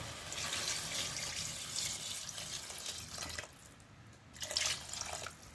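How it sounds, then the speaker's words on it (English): Water poured from a tap into a pot of coffee brown stew turkey neck before pressure cooking, a steady close splashing flow that briefly dips and then resumes. "I'm going to add the water to it now"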